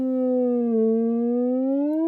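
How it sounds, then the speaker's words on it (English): A Reason Subtractor synth note with pitch modulation dialed up gives a siren-like tone, a single sustained pitch that sags slightly then rises again over about two seconds, clean and alone. "you can hear we get this siren type effect"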